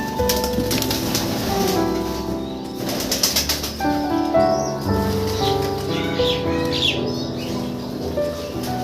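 Over 150 pigeons coo softly at close range, with bursts of wing flapping and scattered chirps among the flock; many of the birds have pox.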